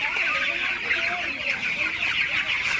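A dense flock of broiler chickens on a farm keeps up a continuous chorus of overlapping clucks and chirps, busy and close throughout.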